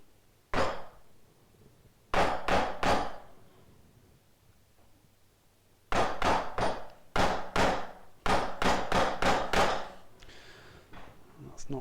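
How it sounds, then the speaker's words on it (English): Hammer whacking a chisel to cut slots in wood, with sharp strikes in quick bursts of three to five blows separated by short pauses, close and clear. "putting the chisel in and whacking it with a hammer,"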